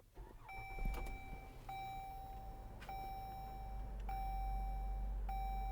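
Push-button start of a 2012 Dodge Journey R/T: a series of steady electronic chime tones repeats at even intervals inside the cabin while the engine's low rumble builds underneath.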